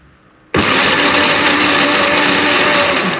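A kitchen blender grinding chopped chicken, eggs and garlic kicks on abruptly after a brief quiet moment, then keeps up a loud, steady, high-pitched whirring roar to the end.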